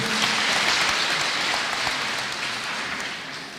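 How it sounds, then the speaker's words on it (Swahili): An audience at a public event in Kenya gives a round of applause for a dignitary, a dense, steady burst of clapping that holds for a few seconds and then eases slightly. "Pigeni tena Mheshimiwa Rukuu makofi"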